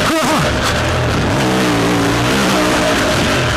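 An Aprilia RXV off-road motorcycle accelerating during a ride in Waldzell, Austria, its loud engine note sweeping up in pitch and holding a steady, close, continuous roar.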